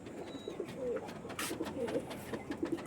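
Tournament-flying Andhra pigeons, a pair, give soft throaty coos in short repeated phrases close by, with faint chirps and light background noise.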